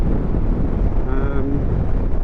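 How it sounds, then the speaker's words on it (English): Steady, roaring wind rushes over a microphone while riding a 2024 Suzuki GSX-S1000GT motorcycle, a constant buffeting blast with a brief tonal whine rising through the middle. "The wind blast still seems quite windy"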